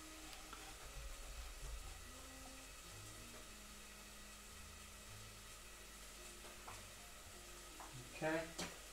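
Garlic and onions sizzle softly in a pan at medium heat while a voice talks over them, the frying a faint steady hiss with a brief clatter of stirring near the end.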